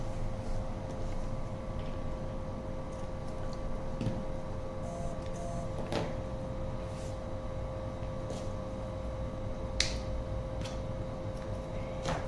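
A sewing machine stitches a placket seam with a steady, continuous mechanical whir and rapid needle ticking, running close and even throughout with a few faint clicks.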